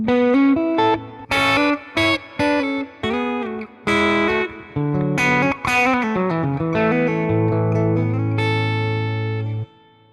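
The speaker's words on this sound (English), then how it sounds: "drop a reverb down there" Plucked guitar notes and chords played alone through a Fractal AM4 with a Hall Marble reverb, a spacious hall sound, sustaining and ringing out into a long wash at the end.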